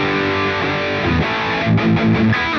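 Electric guitar played through a Strymon Sunset dual overdrive pedal with the A side boosting the B side at fairly high gain, a loud distorted riff of sustained chords and rhythmic strums, with no talking.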